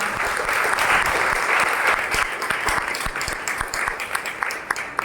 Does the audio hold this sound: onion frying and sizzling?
no